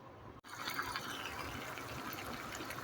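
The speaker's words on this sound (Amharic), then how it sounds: "ትንሽ ውሃ ጨምርበታለሁ።" Water pours steadily into a cooking pot of tibs seasoned with rosemary, a continuous soft rushing splash after a brief start.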